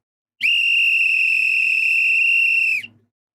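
Referee's whistle at a World Cup football match between Brazil and Japan, blown in one long, loud, shrill blast of over two seconds that cuts off cleanly, heard alone with faint crowd murmur beneath.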